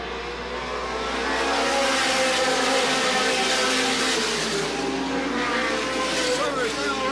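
Late model race cars circling Sandusky Speedway in 1985, a continuous loud engine drone from the pack with shifting revs, overlaid by a commentator's voice throughout.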